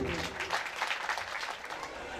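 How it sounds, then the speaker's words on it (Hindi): Audience clapping at a hostel's Ambedkar Jayanti function in Saharsa, a steady, fairly loud burst of applause from a gathered crowd lasting throughout. "हमारे छात्रावास समन्वय के लिए एक बार जोरदार ताली हो जाए।"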